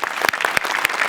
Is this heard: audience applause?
yes